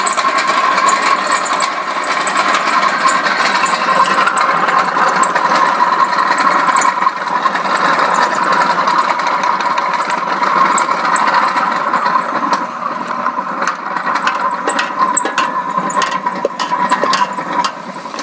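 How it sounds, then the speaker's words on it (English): A machine grinding drained tomatoes into sauce runs as a steady, loud motor whir with a constant mechanical hum throughout, close by and without talk. "Then we'll get our machine started up and we'll start grinding the sauce."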